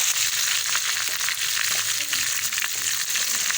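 Ginger, garlic, onion and tomato fry in a hot pan with a steady, dense sizzle that carries on without a break and sits close to the microphone, with no voices over it.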